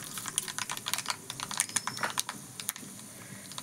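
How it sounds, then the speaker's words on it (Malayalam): Mustard seeds splutter in hot coconut oil for a Kerala-style chicken curry, making a quick, irregular run of crisp little pops and crackles, close but faint. "ഓക്കെ, എണ്ണ ചൂടായി. നമുക്ക് കടുക് ഇട്ട് കൊടുക്കാം."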